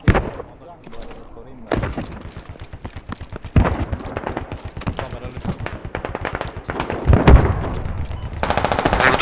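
Rapid automatic gunfire in the Squad military shooter game, with loud rattling bursts of machine-gun fire and single shots, near and far, while voices talk over the shooting.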